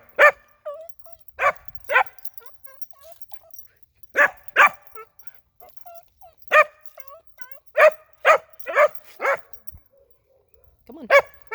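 A dog on a leash lets out sharp, loud barks in bursts of two or three, with short pauses and a few soft whimpers between them.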